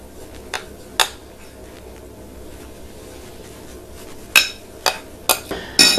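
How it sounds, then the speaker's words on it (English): Coconut flour batter with baking powder being mixed in a bowl gives sparse, sharp clinks of a utensil striking the bowl, with a quick cluster of taps toward the end and no talking. "Give that a good mix."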